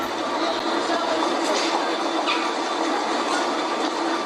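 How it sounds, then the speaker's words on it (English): A Class 47 diesel locomotive and its train rumble past at a steady pace, a dense, continuous roar of engine and wheels with faint squeals riding on top. "The Class 47 and its train continues on its way to Penzance"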